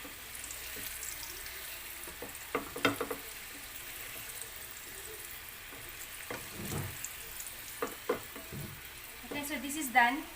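Sweet potato pieces are stirred in melted caramelized sugar in a pan, giving a soft sizzle with scattered scraping and stirring clatters, fairly quiet and close.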